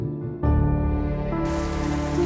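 Steady rain falling outdoors, a dense even hiss that swells louder partway through and continues without pause, with no voices.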